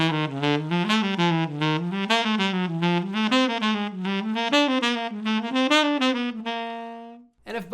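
Solo saxophone plays an ascending jazz enclosure exercise as a steady run of short, clearly articulated notes that climb in pitch, ending on a held tone, loud and close with no talking.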